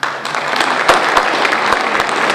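An audience at a school awards ceremony claps steadily for an award recipient, a brief burst of close, dense applause.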